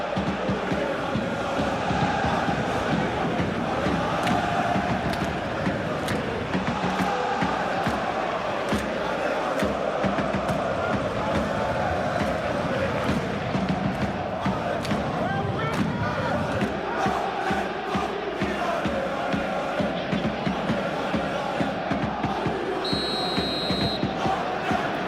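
Stadium crowd in PES 21 football video game, a steady dense roar of cheering and chanting that holds loud throughout, with a brief electronic tone near the end.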